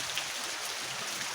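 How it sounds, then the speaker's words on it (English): Heavy rain falls outdoors as a steady, dense hiss, loud and unbroken. "I told you it's raining, bro."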